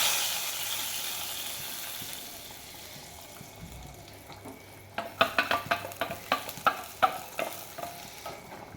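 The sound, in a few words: tempering sizzling as it is poured into lentil dal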